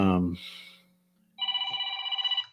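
A telephone rings during a Saturday-night livestream chat, a steady electronic warble lasting about a second, loud and alone, after a voice and a low hum fade out.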